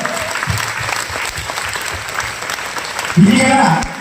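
Steady applause from a crowd fills the whole stretch, with a brief cheer or shout rising near the end.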